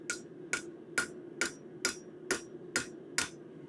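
A hammer strikes a steel bird feeder hanger curl on an anvil horn, eight evenly spaced sharp metallic clanks about half a second apart, close and alone.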